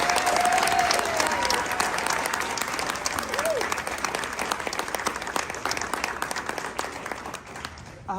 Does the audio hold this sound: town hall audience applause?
yes